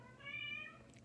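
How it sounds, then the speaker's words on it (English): A house cat meows to be let outside, one short, fairly quiet, drawn-out meow indoors with no talking. "My kitty wants out."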